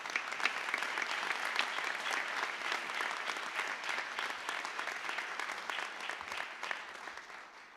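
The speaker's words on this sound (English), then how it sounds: "So would you please give a round of applause to Mr." An audience at a school hall of honor ceremony applauds an honoree with sustained, even clapping, fairly distant and moderately quiet, holding steady for about eight seconds before easing slightly at the end.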